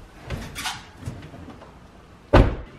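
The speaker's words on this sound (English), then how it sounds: "I come up to the door, open it up, it hits the noodle" A car door clicks open and swings, then bumps with a dull, muffled thud against a foam pool noodle on a garage wall, close by in a quiet space.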